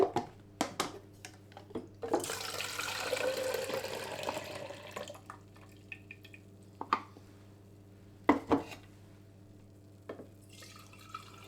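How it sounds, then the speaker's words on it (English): Seaweed-based film developer poured from a developing tank into a jug, quiet splashing and trickling with a few sharp drips and clinks of containers, faint and intermittent. "I'm now going to pour the developer into the jug and keep it in the glass jar."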